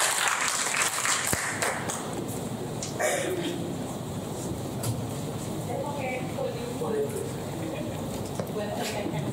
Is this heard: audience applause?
yes